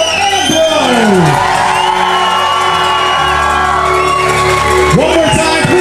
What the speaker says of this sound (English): please keep your applause going for your newlyweds